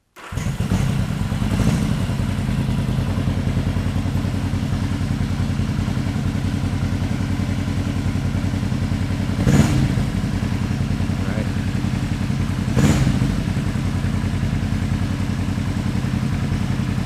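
Yamaha XS500 motorcycle engine idling steadily during a carburetor sync, a close, continuous low rumble with a few brief clattery blips from the throttle.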